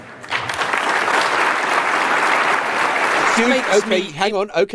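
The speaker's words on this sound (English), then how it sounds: "Huge applause there for Danny Kruger." Loud applause from a studio or conference audience fills the room for several seconds, then dies down as a voice begins speaking over the last claps.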